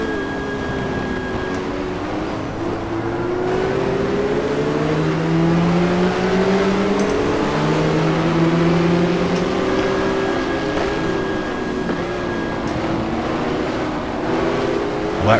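Racing cars from 1994-era GT classes, including a Porsche, a Venturi and a Lotus, lap the Jarama circuit in the GTR2 racing game. Several engines overlap at once, loud and steady, with rising and falling revs as cars pass.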